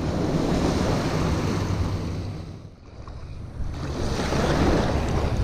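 Ocean surf breaks steadily against a lake or shore during a white bass fishing outing, a continuous loud wash with wind buffeting the microphone, easing briefly midway before surging back.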